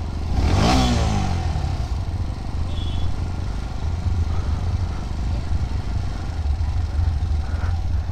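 A motorcycle engine running close by at a college event, a steady low rumble with a brief rev near the start, then an even idle that holds for the rest, with no talking.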